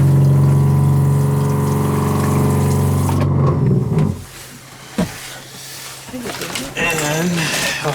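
RV water pump running antifreeze through the toilet while winterizing in the snow, a steady loud hum for about four seconds, then stopping and giving way to quieter gurgles and clicks.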